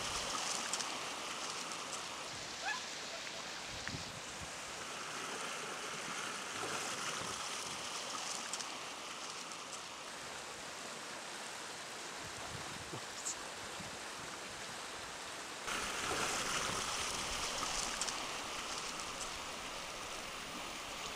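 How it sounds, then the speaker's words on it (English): An artificial stream carrying a cubic meter of water per second rushes down a 178 meter course over weirs into a natural swimming pool, a steady loud roar of flowing water with no voices, swelling slightly brighter near the end. "A cubic meter of water a second hurtles down a 178 meter long stream."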